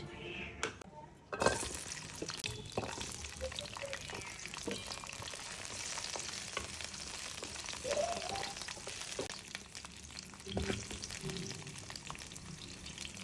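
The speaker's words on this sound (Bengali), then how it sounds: "আমি কড়াইতে একটু তেল দিয়ে এগুলো একটু ভেজে নিব।" Garlic, onion and dried chili sizzle in hot oil in a wok, a steady close crackle with occasional sharper spits and stirring scrapes throughout.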